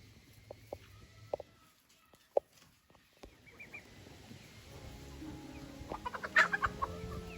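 Frizzle chickens cluck and call close by in a backyard, with soft scattered clucks at first and a busier cluster of clucking toward the end against quiet background noise.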